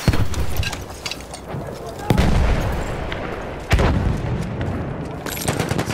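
Battlefield 1 combat: a couple of heavy booming blasts from a grenade explosion and gunfire strike loudly amid constant battle noise and scattered shots, while a voice talks faintly underneath.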